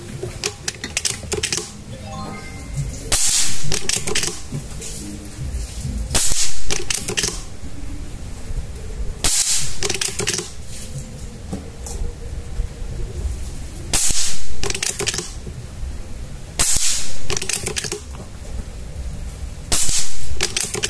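A PCP air rifle fires at a metal silhouette target outdoors, sharp loud cracks spaced every few seconds amid clicking and faint background talk.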